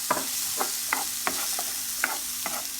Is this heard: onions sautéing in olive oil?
yes